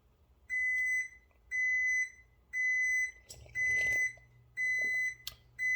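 A kitchen timer emits five evenly spaced, sustained high electronic beeps at a steady rhythm, each about half a second long, with faint kitchen clatter between them.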